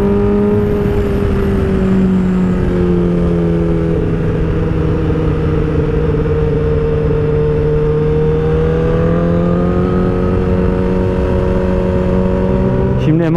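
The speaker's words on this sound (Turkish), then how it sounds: "Lap lap lap lap vitesi düşürüyorsun." A 2019 Honda CBR 1000 RR sport motorcycle engine hums steadily up close, its pitch sliding down and back up as it downshifts, with someone talking over it.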